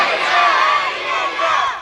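A large crowd at a religious gathering roars a slogan in unison, a loud sustained collective shout lasting under two seconds.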